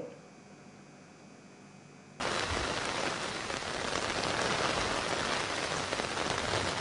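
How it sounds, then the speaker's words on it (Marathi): After a quiet hiss, steady heavy monsoon rain in Vidarbha, India, suddenly begins and keeps pouring as a dense, even patter close by. "तर सरिता, कसा पाऊस होतोय सध्या विदर्भामध्ये?"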